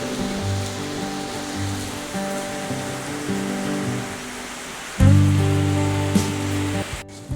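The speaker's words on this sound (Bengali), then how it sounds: "আজকে দেখো কিরম বৃষ্টিটা হচ্ছে বাবা খুব বৃষ্টি পড়ছে" Heavy rain falls steadily on a rainy day, a dense continuous wash heard from indoors near a partly open window, with a low droning hum underneath and a louder surge of rain partway through.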